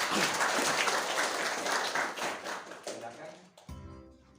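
Wedding guests at a Toraja ceremony break into applause, a dense, fairly loud burst of clapping for about three and a half seconds that thins out and stops, with voices mixed in.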